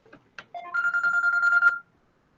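A mobile phone rings with a short electronic tone that warbles steadily for about a second before cutting off, preceded by a couple of faint taps.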